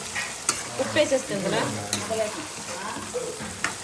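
Pulihora tempering fries and sizzles close by in the pan, a steady hiss broken by stirring clinks and knocks, with a brief spoken remark over it.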